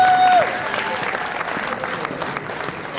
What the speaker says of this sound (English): Let's give me a round of applause, please.